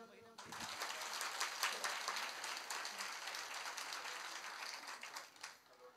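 Women in an audience clap together in a steady, dense burst of applause that lasts several seconds and fades slightly at the end.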